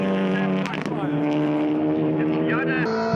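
A Mini and a Kalex Racing VW circuit racing cars scream past at high revs in a GTC Series round, their engine tones shifting as they pass, under continuous race commentary.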